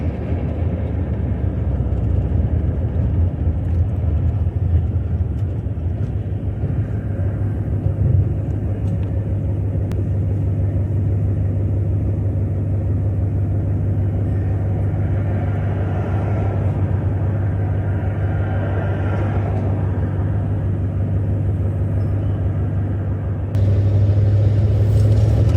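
A 1965 Ford Thunderbird hardtop, whose front end once pulled constantly to the right, rumbles steadily while driving, a low continuous engine drone heard from inside the car with no talk.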